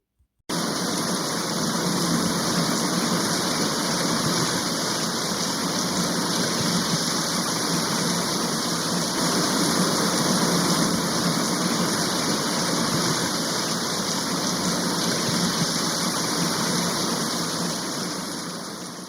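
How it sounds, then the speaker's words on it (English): Steady rain sound effect, a dense continuous hiss that starts abruptly and holds loud and even for nearly twenty seconds before easing slightly at the end, with no voices over it. "that was some rain sound effects"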